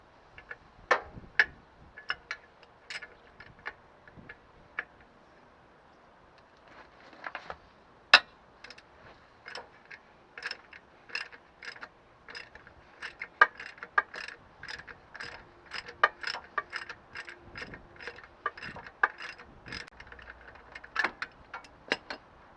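A ratchet working a 1/2 inch bolt loose on the alternator bracket of a classic Mini, rapid clicking pawl bursts repeating close and clear through most of the stretch, with quiet pauses between strokes and no talking.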